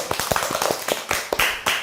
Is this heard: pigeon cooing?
no